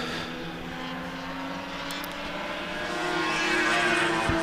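A Triumph TR6 race car passes at the Winton Festival of Speed, a steady engine drone that swells as it nears, with a brief click near the end.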